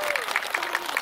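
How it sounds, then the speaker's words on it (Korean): An audience claps at a football club fan meeting award ceremony, a short burst of steady applause from a modest crowd. "박수로 함께 전하도록 하겠습니다"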